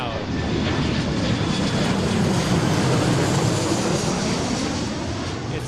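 Boeing 737 MAX jet airliner engines at Seattle airport, a loud, steady, broadband roar that holds at full strength throughout as the aircraft passes close by.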